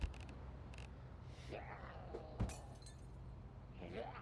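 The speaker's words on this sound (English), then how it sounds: "That was a window smashing." Glass shattering in a dark scavenging survival video game, a sharp crash with a bright splintering burst heard once, fairly near, amid background ambience and a voice talking.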